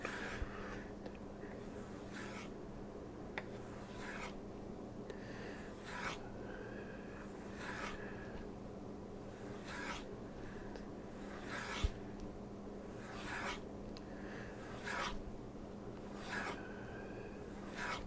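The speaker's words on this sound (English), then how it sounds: "Sharpening." A knife being sharpened with steady, rasping strokes at an even, unhurried rhythm, about a dozen passes close up, with no talking.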